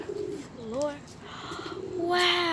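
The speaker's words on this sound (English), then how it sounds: "Wow, look at all these birds." A crowd of birds at a bird hotel, with pigeons or doves cooing and other birds calling in overlapping, rising and falling notes close by, growing busier toward the end.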